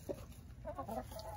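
A hen that is turning into a rooster clucks softly nearby, with a few brief, faint clucks over quiet background noise.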